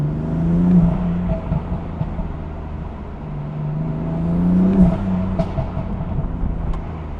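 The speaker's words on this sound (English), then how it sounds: "Oh God, the intake sounds so good." A BMW M4 Competition with a stage 1 tune accelerates hard from the cabin, its intake rising in two strong surging pulls that drop off between gear changes, close and loud with no talking.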